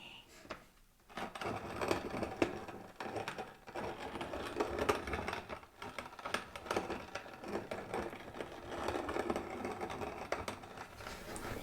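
Potion ingredients being ground in a witchcraft-themed potion class setting, a continuous dense rattling, crunching grind, close and fairly loud throughout, with faint voices at times.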